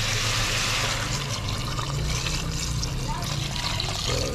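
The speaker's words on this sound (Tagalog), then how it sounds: "lagyan natin ng tubig." Water poured into a cooking pot for a Filipino fish soup during an outdoor catch-and-cook of needlefish, a steady continuous splashing pour running the whole time with a person talking over it.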